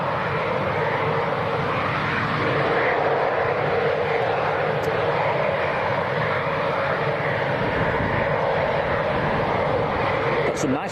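An airplane taking off from Leeds Bradford Airport, its engines giving a loud, sustained roar that holds steady across the whole stretch.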